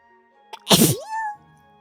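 One sharp, close sneeze bursts out loudly and then fades into a short tonal tail against quiet surroundings.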